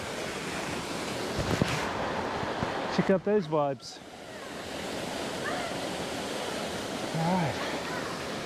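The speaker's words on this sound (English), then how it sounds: "You can hear some water." A small waterfall in Osaka rushes in a steady, broad wash of water noise throughout, with wind buffeting the microphone and someone talking briefly over it.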